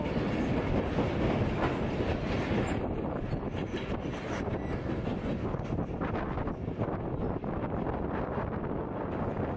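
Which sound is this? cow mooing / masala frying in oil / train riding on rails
train riding on rails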